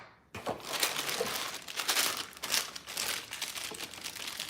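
A plastic package is cut open with dull scissors, producing continuous crinkling and crackling plastic with bursts of crunching throughout, close and fairly quiet, with no talk.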